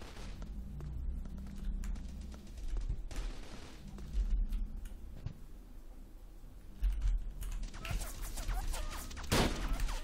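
Gunfire in the blocky shooter game Blockstorm: scattered single shots and short bursts, some near and sharp, others more distant, with low rumbling booms and a particularly loud crack near the end.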